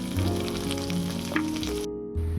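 Ginger garlic paste and ground spices frying in hot oil for Bengali egg curry, a steady close sizzle that runs continuously and briefly cuts out near the end.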